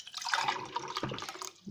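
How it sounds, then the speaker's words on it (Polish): Water being poured into a container during a homemade experiment, a short splashing trickle that shifts in tone partway through, close and alone. "Teraz wleję wodę."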